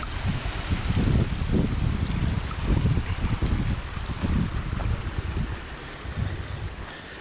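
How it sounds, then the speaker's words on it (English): Water rushing at a creek crossing under a small footbridge on the Battle Creek Trail, a steady broadband wash mixed with gusty wind rumble on the microphone, close and continuous, without talk. "And we've come to the first creek crossing here."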